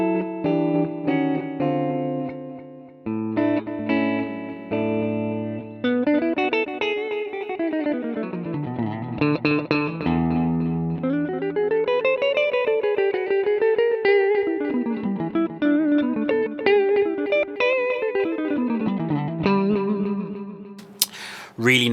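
A PRS SE Soapbar II Maple electric guitar, between its two pickups, plays a clean, flowing melody with bends and slides through an oil can echo delay, each note trailed by warm, repeating echoes that smear into a wash.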